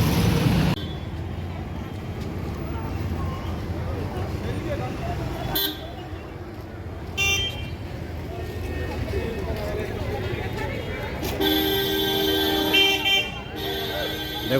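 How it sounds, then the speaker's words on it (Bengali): Busy traffic rumbles at Shilpashree bus stand with buses and cars passing, and several horns toot loudly toward the end while someone talks throughout. "এটাই হচ্ছে শিল্পশ্রী বাস স্ট্যান্ড।"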